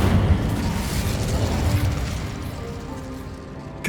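Incendio fire spell cast in Hogwarts Legacy: a loud, dense whooshing burst of magical flame at the start, rumbling on steadily and fading slightly, with a small sharp pop at the very end.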